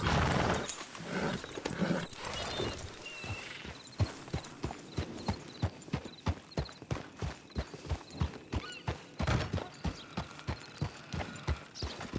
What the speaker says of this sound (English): I'm gonna bring my horse over there